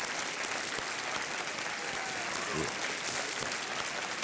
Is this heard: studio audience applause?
yes